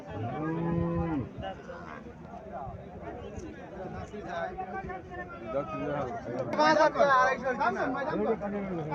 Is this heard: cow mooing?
yes